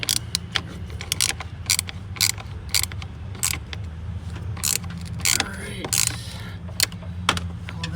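A part on a car battery or alternator being tightened with a hand tool, producing a series of sharp metallic ratcheting clicks over a low steady background hum, close and loud.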